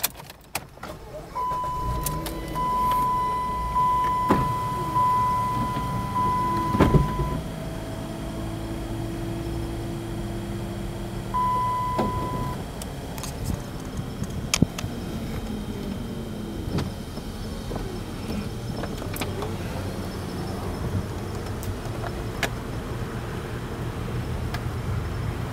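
Power convertible top of a 2008 Chrysler Sebring opening and closing, with steady electric motor whine, a warning chime, mechanical clunks and latching clicks over a running engine hum.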